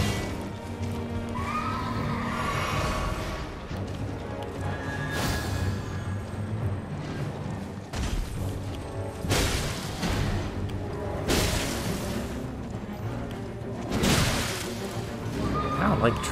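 A horse neighs in the video game Elden Ring, a whinny rising amid combat booms, crashes and whooshes, with someone commentating over the action.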